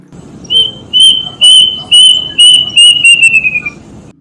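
A person whistles an imitation of a bird's call up close: a series of loud, short, high notes, rising in pace and ending in a falling trill, with a voice murmuring underneath.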